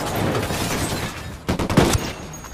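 Gunfire in the video game Ghost Recon Wildlands: several sharp shots crack out in a quick cluster midway, over a steady background of game ambience and noise.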